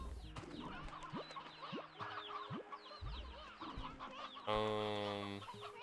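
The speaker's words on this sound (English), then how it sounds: "These are briar chickens, right? Yeah, these are briar hens." Briar hens cluck and chirp in the Slime Rancher 2 video game, a busy layered chorus of short rising calls, with a brighter tonal game chime near the end.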